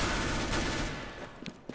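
Rapid gunfire in the video game Overwatch, a dense burst of shots that tails off into a few scattered single cracks.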